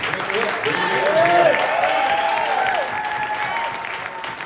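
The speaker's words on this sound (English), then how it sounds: "So give yourselves a round of applause." An audience at a speaker program event breaks into applause, a broad wash of clapping with cheering voices rising over it, swelling in the middle and tapering slightly toward the end.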